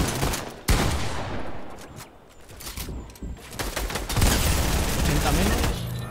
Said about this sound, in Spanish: Están disparando.